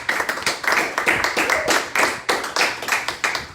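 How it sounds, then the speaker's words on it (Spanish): Church congregation clapping together during a worship service, a steady run of sharp, close handclaps with uneven rhythm filling the whole moment, with a faint voice or two underneath. "¿Podemos darle un aplauso al Señor?"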